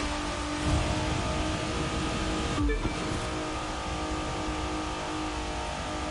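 A car in The Crew 2 video game accelerates steadily through its gears, the engine droning loud and continuous with a brief shift dip partway, no talk over it.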